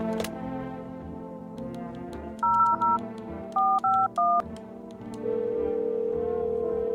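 Telephone keypad dialing tones in the game No, I'm not a Human: two quick beeps, then three more in a short burst over background game music, followed by a steady held tone, no talking.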